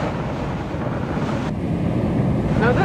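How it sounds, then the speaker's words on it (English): Hurricane storm surge waves wash in over the shore in a continuous, loud roar of surf with gusting wind buffeting the microphone close by. "Now this is how I like to see water surging in."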